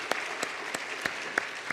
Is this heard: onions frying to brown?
no